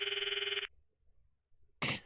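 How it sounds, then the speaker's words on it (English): A phone rings in the Steins;Gate video game, one electronic ring tone cut off after a moment, then near-silence, then a second burst of the ring starting. "I stop the video and call Mayuri's phone from my address book."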